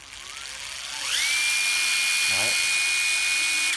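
A Makita 12V cordless drill with external brushes spins up and runs at a steady high whine, with a brief voice over it midway.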